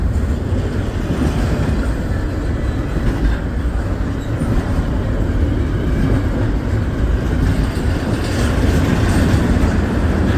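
A freight train rolling steadily past on the main line, loud and close, with a continuous rumbling roar and wheel clatter that holds for the whole stretch without pause.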